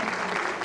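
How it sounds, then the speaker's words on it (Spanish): A university graduation audience applauds, a dense, continuous wash of many hands clapping at once, loud and sustained through the brief moment. "Doble, doble aplauso, entonces."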